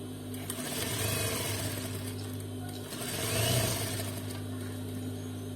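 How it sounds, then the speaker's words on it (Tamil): A sewing machine stitches an Afghani salwar in two rapid bursts of mechanical whirring with a humming motor tone, while someone talks over the stitching. "இப்போ இதுக்கு ஸ்ட்ரெயிட்டா ஸ்டிச் பண்ணி எடுத்துக்கலாம்."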